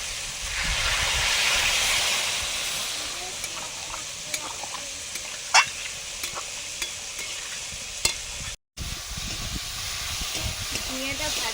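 Soybean chunks and potatoes sizzle in spiced oil in a pan for a Bengali home-cooked lunch, a steady broad hiss with sharp scrapes and clinks of a spatula stirring at intervals, close up, with one brief silent gap.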